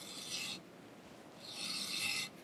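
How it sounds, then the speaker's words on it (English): Thread tap cutting a 7/8 inch, roughly 8 threads-per-inch thread inside a hole in a Monarch 612 lathe tailstock: two separate stretches of scraping, rasping metal cutting, fairly close and moderately loud, with no talk. "I'm gonna tap the inside of this hole"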